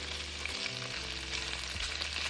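Shrimp sizzle steadily in a hot pan for a stir fry, with a loud continuous frying hiss and soft clinks as the pieces are flipped over, no voices.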